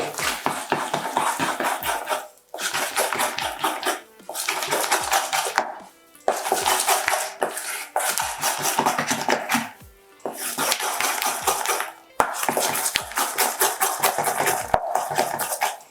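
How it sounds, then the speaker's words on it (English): Buttercream softened with a splash of alcohol is stirred in a bowl. Rhythmic bursts of scraping and clattering strokes come in repeated runs, separated by brief pauses, close and fairly loud. "Adding a bit of alcohol to soften the buttercream, and we just stir"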